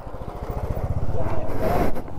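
Motorcycle on an adventure ride pulling away as the clutch is let out, its engine rising steadily over about two seconds, close and loud, with a voice talking over it.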